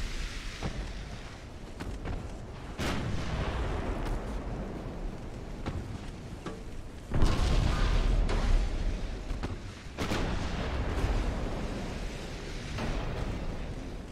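Heavy naval gunfire and shell hits from the warship game Ultimate Admiral: Dreadnoughts, with Scharnhorst and 16-inch guns, come as repeated deep booms and rumbling impacts over a continuous low roar, with a loud blast near the middle.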